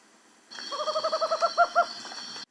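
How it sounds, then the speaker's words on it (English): A tropical screech owl gives a fast, rhythmic trill of hoots that speeds into a stuttering roll and ends with two stronger notes, heard alone against faint background hiss. "Tropical screech owl."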